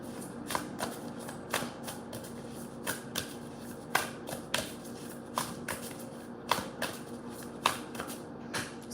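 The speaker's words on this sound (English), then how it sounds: "I'm just shuffling both of the decks here." Two tarot card decks are shuffled by hand, giving repeated sharp riffle bursts at an uneven rhythm, close and fairly quiet, with no talking.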